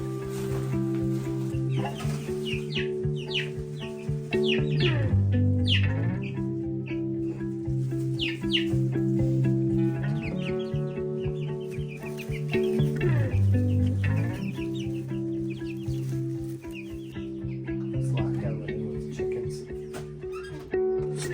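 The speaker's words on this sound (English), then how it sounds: "that chicken makes a noise." Chickens cluck and squawk repeatedly nearby in a coop with an automatic door, a busy overlapping chorus over a steady low mechanical hum that dips and returns a few times.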